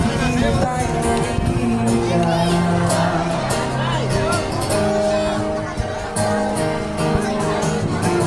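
A crowd at a TLC event in Taguig cheers and shouts continuously, with loud, dense babble and whoops mixed with music-like tones throughout.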